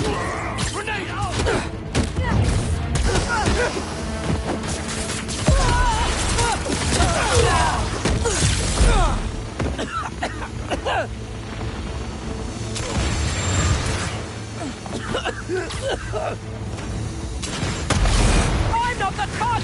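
A grenade goes off during combat in the Spider-Man 2 video game, with heavy thuds and booms buried in a dense, constant mix of gunfire, effects and shouted voices.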